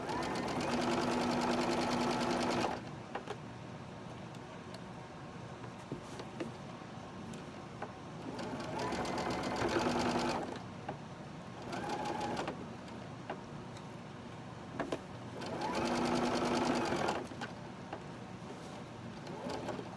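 A sewing machine runs in steady bursts while stitching a quarter-inch seam on a quilt block, with three loud sustained runs separated by quieter pauses.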